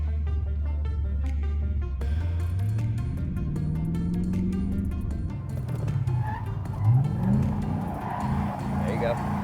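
A car drifting in tight donuts, engine droning and rising in pitch as throttle climbs, with tire squeal emerging toward the end, while an instructor talks over it.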